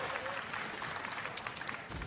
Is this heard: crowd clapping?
yes